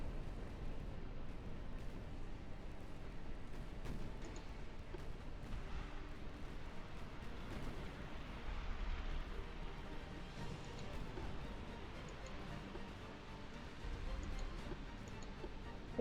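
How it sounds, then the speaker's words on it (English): Naval gunfire from a warship salvo in the Ultimate Admiral Dreadnoughts battle game, heard as a steady rumble of heavy distant booms with scattered sharp ticks, rolling continuously without pause. "I've just spent an entire salvo on a ship that was already sinking"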